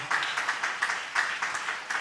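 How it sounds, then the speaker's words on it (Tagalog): A church congregation claps during a worship service, a steady run of broadband hand claps at moderate loudness with no pause across the whole stretch. "Malakas sa palakpak sa ating dakilang Diyos na buhay"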